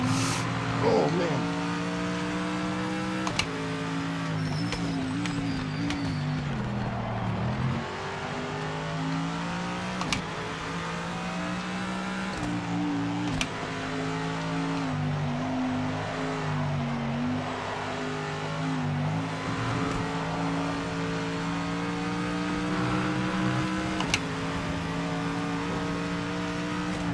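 Ford Mustang race cars in a racing video game roar and rev continuously, engine tones rising and dropping with gear shifts, with occasional tire squeal and skids as several cars jostle close behind.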